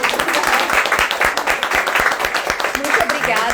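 Rhythmic clapping from an audience at a women's self-care and health talk, sharp individual claps in a fairly steady beat with voices mixed in underneath.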